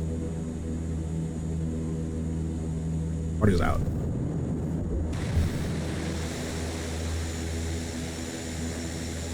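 Propeller engines of a CL-415 water bomber in Flight Simulator 2024 drone loudly and steadily throughout, with a sudden rushing splash of water near the middle; a voice speaks briefly over it.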